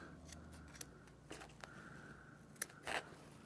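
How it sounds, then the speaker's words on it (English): Scissors snipping through carpet lining during a van interior build, with several short crisp cuts at an irregular pace and a sharper double snip near the end, close and quiet with no talking. "I'm just going to use a reasonably decent pair of scissors and just give myself"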